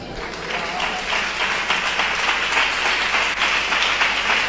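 A congregation at a Tamil Christian sermon claps hands together in a dense, continuous burst that lasts a few seconds. A speaking voice is partly heard along with it.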